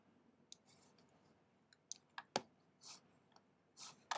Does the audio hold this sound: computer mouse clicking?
yes